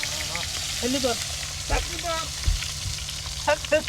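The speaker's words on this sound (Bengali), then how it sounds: "একদম সরিষার তৈল দিয়া ফ্রাই চলছে হ্যাঁ" Marinated rocket fish frying in mustard oil outdoors, a steady sizzling hiss running underneath voices talking and occasional bumps.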